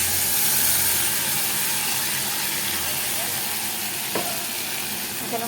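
Spices and onion frying in a pan give off a steady, loud, close sizzle with a brief scrape of stirring near the end.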